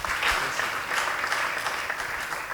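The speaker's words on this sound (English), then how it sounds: "Give her a round of applause." Audience applause after a talk, a steady patter of clapping at moderate, somewhat distant level, lasting a few seconds without talking.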